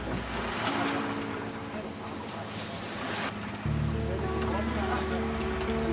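A boat pulls in to dock at an island, its steady low engine drone and churning water loud and close, the engine note shifting near the end as it slows.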